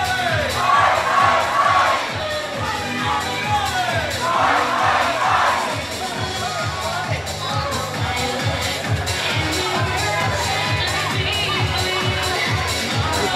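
A boxing crowd in Southend roars and cheers loudly for a fighter, with bursts of shouting and chanting rising and falling over a rhythmic thumping beat, a big indoor fight-night crowd sustained throughout.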